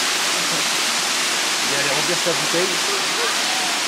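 Steady roar of a mountain waterfall in Kyrgyzstan, broad and constant throughout, with a person speaking briefly over the rushing water.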